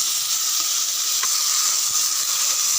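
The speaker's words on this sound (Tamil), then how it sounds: "பாருங்கள், பச்சை மிளகாய் நல்லா வதங்கிடுது." Green chilies and tomatoes sautéing in a pan for chutney, a loud continuous sizzle and hiss of frying close up, with no talk.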